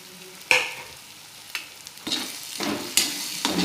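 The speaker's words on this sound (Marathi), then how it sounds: "चांगलं परतून घ्यायचं." Bitter gourd tikka sautéed in oil in a pan with red chili powder, turmeric, kitchen king masala and chaat masala: a sizzling base broken by several distinct spatula scrapes and stirring strokes, close and unaccompanied by speech.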